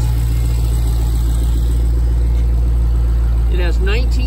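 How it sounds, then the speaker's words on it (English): A red 2016 Dodge Challenger SRT Hellcat, its supercharged engine under orange valve covers, idles with a steady deep low rumble throughout, loud and close, while someone talks over it near the end. "This is an awesome engine."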